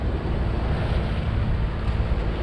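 Sea surf churning and breaking on a rocky ledge far out on the water, where two currents meet around a headland, a steady broadband wash with wind noise buffeting the microphone throughout.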